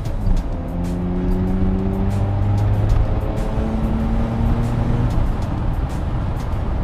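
Mazda RX-7 FD with its rotary engine pulling hard, a loud steady drone with rising harmonic tones as the car gains speed, heard from inside the cabin with road and wind noise.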